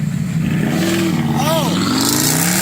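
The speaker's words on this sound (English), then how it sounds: "So I got a rev off." An engine revs loudly and close up, a steady harmonic drone that rises in pitch around the middle of the burst, with voices mixed in. The engine is thought to need new piston rings.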